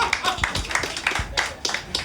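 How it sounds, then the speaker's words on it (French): A studio audience claps for a guest on a French comedy show, a loose burst of many hands with distinct claps standing out, fairly loud and close. "Est-ce qu'on peut applaudir Petrus,"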